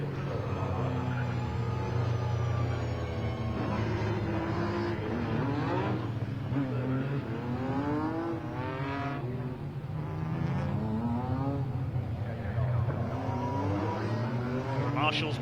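BMW race cars on Kumho tyres move up to the grid at Silverstone on an overcast morning, a steady engine drone throughout with rising and falling revs as the cars roll past, under continuous commentary.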